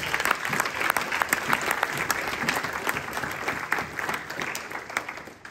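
A church congregation applauds and cheers for the Lord, dense sustained clapping from a large crowd, loud and continuous before slowly easing off.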